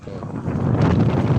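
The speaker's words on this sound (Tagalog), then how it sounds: "napakalakas ng hangin" Strong wind buffeting the microphone outdoors during post-forming work, a loud, steady rumbling gust that builds slightly across a brief moment.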